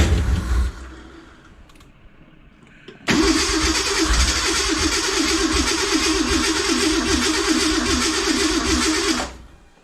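A cheap old Ford Ranger 4x4 engine with its throttle position sensor pulled off cranks and catches after a quiet pause, then runs loud and steady with a rough rhythmic idle for several seconds before cutting off.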